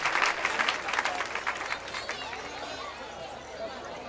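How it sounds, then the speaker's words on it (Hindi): Applause from an audience at a school annual function, loud hand clapping at first that gradually thins and softens, with some crowd chatter underneath. "यहाँ दोस्तों जोरदार तालियां"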